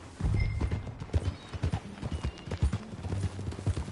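Hooves clip-clop in a brisk rhythm as a horse moves in Red Dead Redemption 2, close and fairly loud, with a brief whinny-like sound and no talking.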